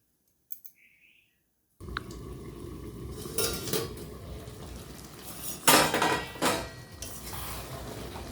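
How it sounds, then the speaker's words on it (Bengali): A lid clatters onto a metal pot of simmering mixed vegetables in a home kitchen: a few close, sharp clinks and scrapes after a brief silence, then several louder metallic knocks. "এবার কিছুক্ষণ আমি ফুটতে দেবো। আমি ঢেকে দেবো কিছুক্ষণ।"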